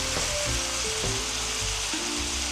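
Chicken sautéing in a pan gives off a steady, close frying sizzle, with brief clatters as it is stirred now and then, and no voices.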